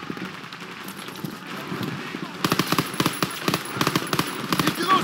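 Rapid gunfire and machine-gun bursts in the Call of Duty: WWII campaign, steady crackle at first that grows denser and louder halfway through, with game voices shouting over it.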